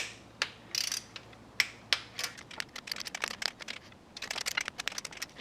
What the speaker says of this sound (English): you want to torque them down to 168 inch-pounds according to the manual